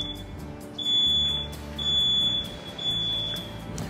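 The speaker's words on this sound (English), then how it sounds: "Typically, there's a small test button you can press to cause the alarm to sound." A smoke alarm, set off with its test button, shrieks in three loud, piercing bursts, each lasting about half a second to a second with short gaps between.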